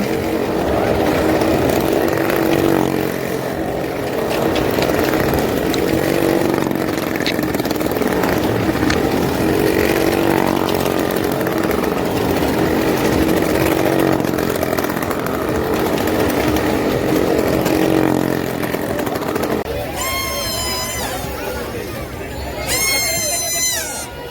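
Motorbike engines buzz and rev inside a well of death show at the Nirmal fair in Vasai, a loud, raspy, continuous whine with a busy crowd around it and a few sharp high squeals near the end.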